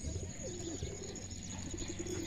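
Pigeons coo softly and repeatedly close by, a low rolling murmur over a steady background hum, with a few faint chirps mixed in.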